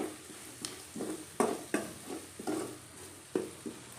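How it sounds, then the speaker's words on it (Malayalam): Onions are being softened with salt in the same pan used for chicken curry. They give a soft sizzle broken by repeated scraping stir strokes in an uneven rhythm. The sound is quiet and close, with no voices. "സബോള ഒന്ന് വഴന്ന് വരണമല്ലോ അതിന് വേണ്ടി കുറച്ച് ഉപ്പും കൂടി ഇടുവാണേ"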